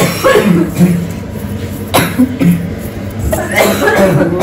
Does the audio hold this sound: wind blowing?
no